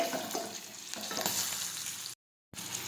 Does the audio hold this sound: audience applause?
no